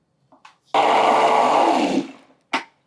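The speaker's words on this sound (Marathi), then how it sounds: "चवीपुरतं मीठ आणि आता पाणी घालूयात आणि हे मिक्सरला फिरवून घ्यायचं" A kitchen mixer grinder whirs loudly for about a second, blending tamarind water with salt into chutney, bracketed by soft clicks and a short burst at the end.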